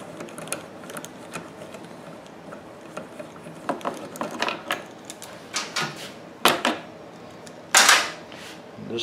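A 10 mm bolt is worked out of the handle of a Pulsar PG4000iSR generator's extended runtime fuel kit, with grime on its threads, giving scattered close metallic ratchet clicks and scraping taps, with a few louder clanks toward the end.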